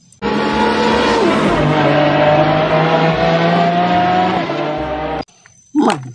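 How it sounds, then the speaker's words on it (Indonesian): A red toy race car gives off a loud, close electronic engine-revving effect with a rising whine and tire-squeal tones, sustained for about five seconds before stopping, then a short burst follows. "ternyata ini mobil balap warna merah"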